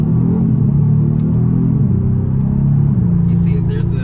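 A Kia Stinger engine revs hard and steady under load, its pitch climbing then dropping at each of several upshifts, loud and close throughout.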